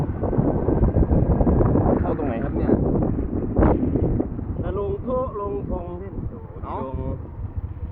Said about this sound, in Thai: ลมแรงโอ้โห แสบตาเลย ลมตีหน้านะฮะ